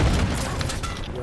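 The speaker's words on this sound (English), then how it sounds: "Throwing grenade!" A grenade blast in a shooter video game, heard as a dull, heavy boom with a short crackling tail that fades over about a second, fairly loud and alone.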